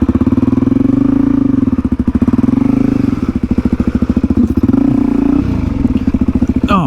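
A Suzuki DRZ400E trail bike chugs loudly at low revs on a rough track, with the engine note rising and dipping and a knock near the end as the bash plate strikes an obstacle.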